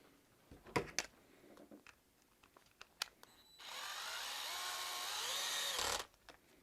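An electric power tool tightens a screw on a Tekno SCT410SL RC car build, one steady whir of about two and a half seconds that stops abruptly, preceded by soft clicks and handling noises of small parts.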